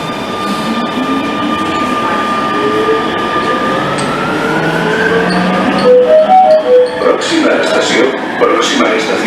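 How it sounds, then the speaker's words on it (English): An automatic metro train pulls away with a rising electric motor whine and rumbling wheels, a few squealing tones sliding upward as it gains speed. "That means the train is departing now."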